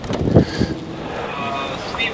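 Strong wind buffets the microphone out on open water during an evening fishing trip, a steady rushing roar with heavier gusts at the start and a boat faintly audible underneath.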